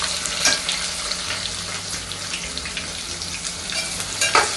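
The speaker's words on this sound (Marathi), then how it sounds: "आता हा कांदा छान ब्राऊन होईपर्यंत छान लालसर करायचा आहे" Onion sizzling in hot oil with garlic already browned, a steady dense frying hiss with occasional stirring scrapes, close and continuous throughout, no talking.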